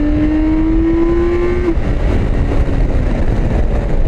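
A BMW K 1600 GT six-cylinder motorcycle engine revs up with a rising whine that climbs steadily and then drops off, followed by a continuous loud rumble of the engine and wind.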